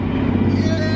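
BMW E46 car with a new driveshaft cruising on the road, a steady low engine and road drone heard from inside the cabin, with a voice talking over it.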